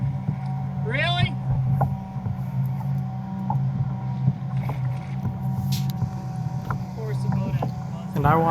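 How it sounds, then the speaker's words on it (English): An offshore boat passes close by, a steady low engine drone holding under wind and water noise for the whole stretch, heard from a kayak at sea, with brief bird-like chirps and a faint voice surfacing now and then. "I watched that boat veer offshore, come like 50, 100 feet next to me"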